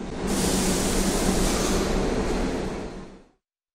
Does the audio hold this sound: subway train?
yes